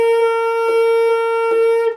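A single sustained saxophone high C holds steady, with a couple of soft breathy changes in tone partway through as the pitch dips slightly when the right hand is lowered.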